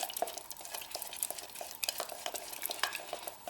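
Gypsum plaster being mixed by hand for cast facing stone, a quiet, close, wet scraping and stirring with irregular clicks against the container and no talk.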